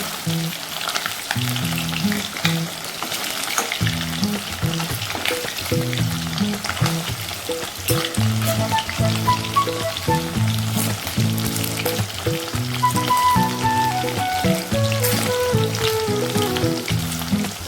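Chicken pieces for a crispy roast fry spatter in hot oil, giving a dense, steady sizzle that runs unbroken throughout, with faint music playing underneath.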